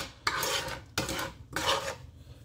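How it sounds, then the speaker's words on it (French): Ingredients for a pork-shoulder meat sauce being stirred and mixed in a pot, three scraping, rasping strokes of a utensil against the cookware, close and moderately quiet with no talk. "Je mélange le tout comme ça."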